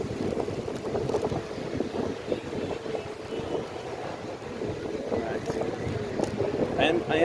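Steady headwind roars across the microphone while cycling along a beach at Fort Myers Beach, Florida, a dense continuous buffeting rumble that runs throughout without pause.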